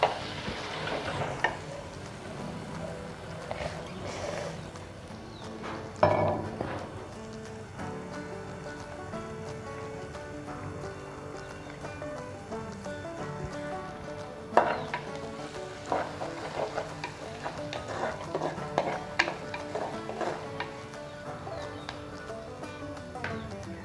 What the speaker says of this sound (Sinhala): අවු මිරිස් අර මං තලාගත්ත අබ අබ පොන්දු පොතු දාලා මම චුට්ටක් කලවම් කරගන්නවා